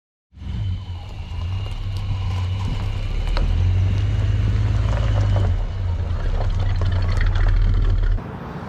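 A Chevrolet Silverado pickup drives along with a steady low engine rumble and road noise, heard from inside the cab, rising slightly midway before the sound cuts off near the end; no one speaks.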